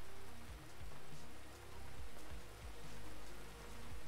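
Steady rain falls during a fire department shift, a soft, even hiss of drops on surfaces with faint low rumbles, continuous and fairly quiet with no voices.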